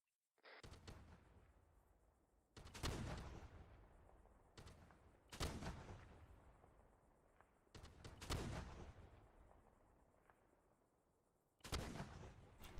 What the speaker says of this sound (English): Alright, we're gonna fire 4 rounds each, over.